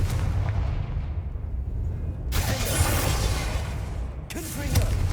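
Confringo blasting spell in Hogwarts Legacy, two loud explosive bursts a couple of seconds apart over a low rumbling background.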